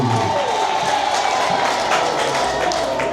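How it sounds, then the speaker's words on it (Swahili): Steady applause from a large church congregation at a church inauguration fills the space, dense and continuous clapping with a murmur of voices throughout. "Mshangilie Bwana kwa makofi"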